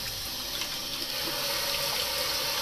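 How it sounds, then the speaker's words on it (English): Basmati rice being rinsed under cold running tap water, a steady splashing flow that stays constant and fairly close, with no talking over it. "I'm just going to rinse it for about 5 minutes under cold running water just to release some of the starch."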